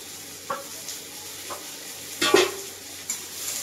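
Chopped onion fries with five-spice seeds in a pan, a soft steady sizzle punctuated by several distinct spatula scrapes and clinks against the metal, the loudest in the middle.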